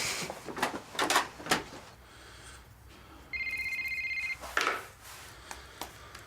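A telephone in a doctor's surgery gives one short burst of electronic, pulsing ring tone lasting about a second. It comes after a few knocks or footsteps in a quiet room, at moderate volume with no talk.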